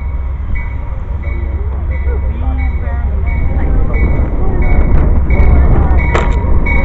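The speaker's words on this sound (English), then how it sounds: "Here comes our Amtrak train in." An Amtrak passenger train pulls into a station in Meridian, Mississippi, with a loud, deep rumble and rolling rail noise that swells as it nears, steady tonal whines and squeals above it and voices faint beneath.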